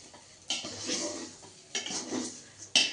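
Ingredients being fried in a pan, with clattering of a utensil against cookware in bursts, stirring scrapes and a faint sizzle underneath, fairly close and moderately loud.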